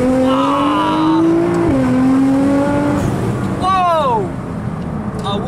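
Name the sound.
Nissan GT-R 700 hp accelerating hard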